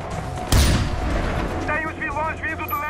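Barrett sniper rifle fired in Far Cry 4 during an airport assault, a single loud sharp crack with booming tail, followed by someone talking over game sound.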